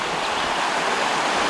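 Mosquito Creek runs beside a hiking trail, giving a continuous rushing burble of flowing water that stays fairly loud and even across the brief moment.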